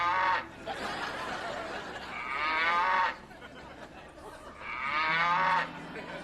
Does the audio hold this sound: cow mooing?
yes